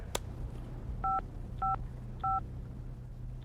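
Satellite phone keypad dialing, four evenly spaced dual-tone beeps at a steady rhythm over a low background hum.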